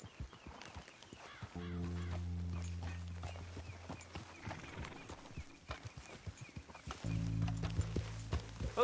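Horse hooves clip-clop in Red Dead Redemption 2, a steady rhythmic trot heard alongside game music tones and ambient sounds, with no talking.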